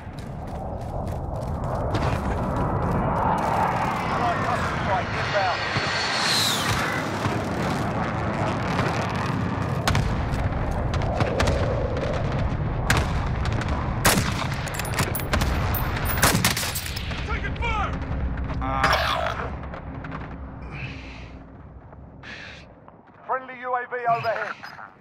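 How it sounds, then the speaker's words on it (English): An enemy precision airstrike in Call of Duty: Modern Warfare, with aircraft noise and explosions: dense rumbling and clattering impacts over a sustained roar, with frequent voice callouts layered on top before it fades near the end. "Enemy precision airstrike."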